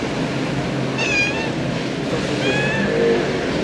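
A cat meows twice, thin rising cries a second or so apart, heard over constant loud road or engine rumble outdoors.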